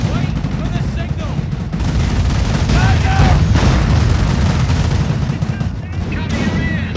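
An artillery barrage from the British campaign of Company of Heroes: Opposing Fronts, with dense, continuous rumbling explosions and gunfire crackle that stay loud for the whole stretch, with no talk over them.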